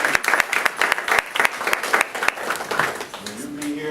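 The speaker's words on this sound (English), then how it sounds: "Round of applause" People at a community board meeting give a short round of applause, with close, crisp claps fading out as a voice starts talking at the end.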